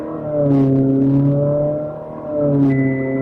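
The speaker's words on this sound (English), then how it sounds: "You can hear how loud this car is. It's really loud." A Ferrari 458 Speciale is driven in North Sydney, its engine droning loudly with a steady, harmonic-rich tone that swells, dips briefly near the middle and rises again, heard close up without talk.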